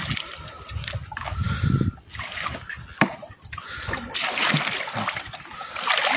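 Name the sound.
flathead catfish splashing in creek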